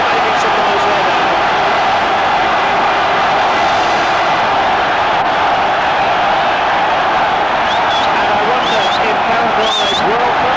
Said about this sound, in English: enjoys the celebrations of the huge crowd who are really making some noise right now